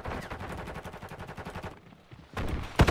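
Rapid automatic gunfire rattles in steady bursts during a Call of Duty Warzone match, pauses briefly, then resumes loud and close with a final heavy crack.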